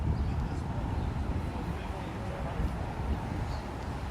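Steady, heavy wind buffets the microphone on a street in Queens, New York City, with a constant low roar throughout, no distinct voices.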